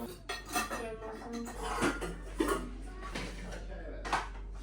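Dishes and cutlery clatter and clink close by in a steady jumble of small impacts, with a voice talking softly underneath.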